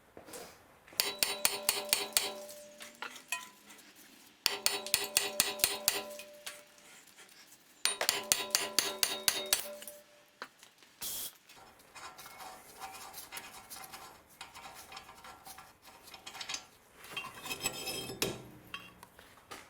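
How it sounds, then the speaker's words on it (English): Metal hammer blows knocking out a front brake disc on a 2005 Honda Jazz, three bursts of rapid ringing strikes separated by short pauses, then quieter scraping and a few scattered clanks. "I'm gonna try and hit this disc out"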